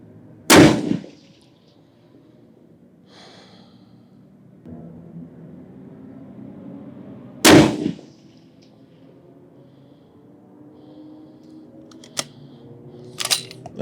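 Two loud, sharp rifle shots several seconds apart during long-range shooting at a tall target, each a sudden crack with a short echoing tail, followed by faint clicks and handling noises.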